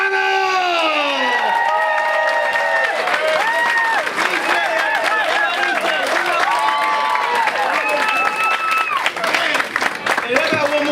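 A comedy club audience cheers, whoops and applauds for a stand-up comedian, with loud continuous clapping and shouts mixed with a host's voice and crowd chatter throughout.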